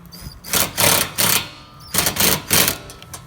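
Quick ratcheting bursts in two groups as a spanner tightens a nylock nut while a rear door table is installed on a vehicle, loud and close.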